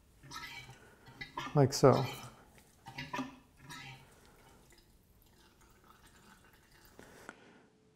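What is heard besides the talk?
pumping oil out of a motorcycle fork tube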